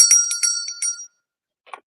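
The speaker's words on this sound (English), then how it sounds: "Let's find my bell." A small hand bell rings several times in quick bright strokes, then fades out, followed by a faint short sound after a pause; no talking.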